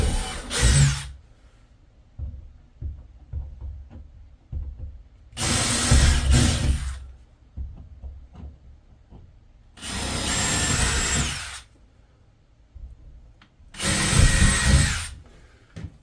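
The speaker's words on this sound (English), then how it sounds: "we're going to drill in each corner" A power drill bores into the corners of a wooden shed wall, four separate loud bursts of whirring and grinding with quiet handling noises between them.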